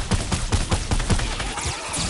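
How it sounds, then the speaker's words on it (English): Rapid gunshots in the Fortnite video game, a fast string of about ten evenly spaced shots fired close and loud over roughly two seconds. "Shot fired."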